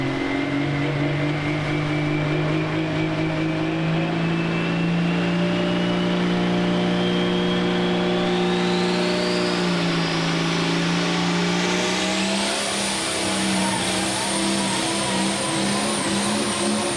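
A pulling truck or tractor engine at a Franklin County, Pennsylvania truck and tractor pull revs hard and steadily, its pitch climbing through the run, loud and close with no talk.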